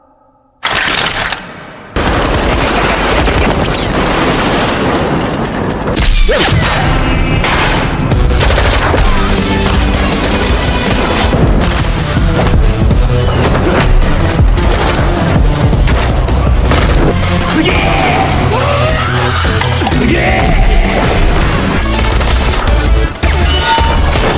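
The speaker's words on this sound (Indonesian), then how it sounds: "Rio harus menunjukkan skill bertarung dan menembak ala John Wick versi barbar" Gunfire in a City Hunter action film fight scene plays loud and nearly continuous, with rapid machine-gun bursts mixed with booms and crashes after a brief quiet start, and no speech.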